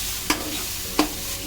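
A spoon stirs thick ground masala in a hot pan for fish curry: two distinct scraping strokes over a soft, steady sizzle, close and without talk.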